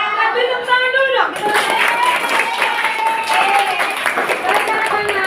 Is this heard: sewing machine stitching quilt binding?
no